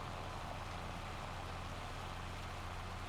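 Steady dense hiss of hail and rain falling in Farming Simulator 25, a constant even wash of sound with no breaks, moderately quiet, with a low engine-like rumble underneath.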